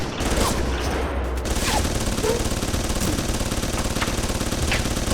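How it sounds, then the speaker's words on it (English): Rapid, sustained autocannon fire in the video game Alpha Protocol, a dense continuous rattle of shots at steady loudness that fills the whole stretch, with no talk over it. "That's an autocannon."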